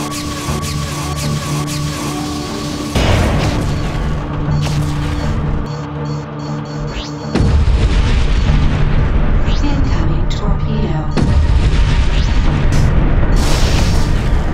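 Booming torpedo and weapon blasts in Freelancer space combat, heavy low impacts layered over a dense, loud mix of game effects and a steady hum, with sharp surges partway through.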